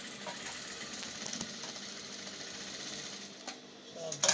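An overlocker sewing machine runs steadily while overlocking a garment hem, a fast even mechanical whir at low volume, close by, with a brief pause and a short voice near the end.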